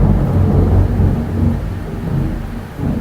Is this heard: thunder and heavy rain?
yes